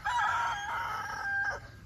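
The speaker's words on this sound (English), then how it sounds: "Please ignore my ass of a rooster, Leo." A backyard garden rooster crows once, a loud, close cock-a-doodle-doo that rises, holds and trails off over about two seconds.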